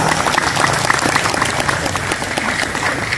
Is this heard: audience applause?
yes